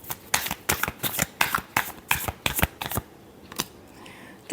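Tarot cards are riffled and shuffled up close in a rapid series of crisp, papery bursts, about ten in a row, before a pause and a final soft tap.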